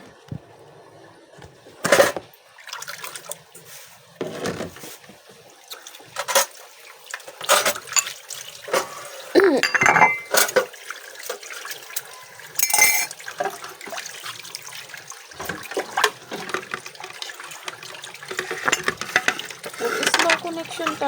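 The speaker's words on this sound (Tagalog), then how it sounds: "Ayan, maghuhugas tayo ng plato." Tap water runs and splashes while dishes are washed, with clinks and clatters of plates in a sink, intermittent bursts of flow close by, and a person speaking in between.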